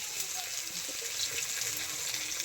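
Water poured into a pan holding fish roe for a fish-roe chutney makes a steady, soft gushing hiss throughout, fairly faint and continuous, with cooking sizzle beneath.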